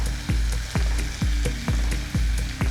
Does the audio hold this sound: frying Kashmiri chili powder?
yes